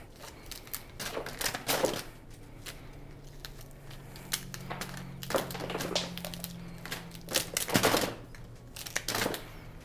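Scissors snip through the flower stems of a premade bouquet just below its rubber band binding, a series of sharp irregular cuts and rustles, close and fairly quiet.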